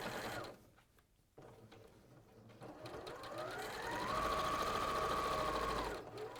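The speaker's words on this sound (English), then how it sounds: "So I'm just going to sew across these now, just remove the pins if they're coming into contact." A sewing machine stitches across pinned quilt pieces with a 1/4 inch seam, a steady mechanical whir that starts partway through, holds for a couple of seconds and then stops.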